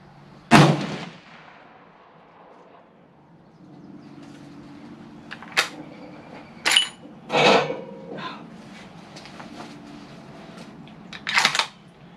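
Rifle shots at an outdoor shooting range, several sharp loud cracks with blast at intervals, one heavy report near the start and others spread through, with quiet handling noise between.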